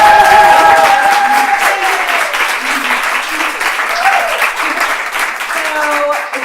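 Loud audience applause fills a live talk event with a featured author, a dense, steady wash of clapping hands sustained throughout with faint voices underneath.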